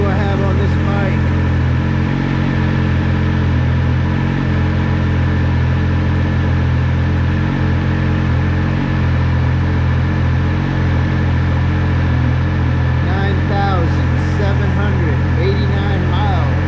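A motorcycle with 9,789 miles on it, due for an oil change, rumbles steadily at idle, loud and close, with a constant low throb throughout and faint talk in the background.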